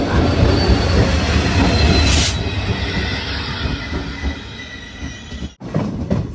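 Train hauled by a WDP-4D diesel locomotive rolls into Kumta station on the Konkan Railway, a loud steady rumble of wheels with a brief high squeal, fading slightly before a short break and resumed noise.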